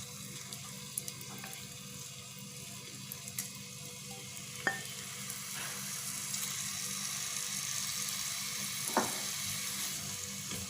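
Marinated tandoori chicken pieces sizzle as they spread across a hot pan, a steady close hiss that builds slightly, broken by a few light clicks and knocks, with no voices.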